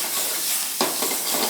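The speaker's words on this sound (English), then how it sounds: "we wanna start stir frying our beef" Beef sizzles loudly in a hot stir-fry pan for lomo saltado, a constant crackling hiss with a sharper burst of frying partway through.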